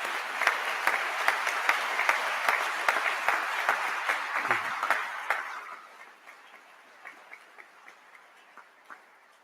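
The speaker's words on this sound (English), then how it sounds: "Could you all please stand so that we can give you a round of applause?" An audience applauds at a university business college ribbon-cutting ceremony, with a full round of clapping for a few seconds that thins out to scattered individual claps.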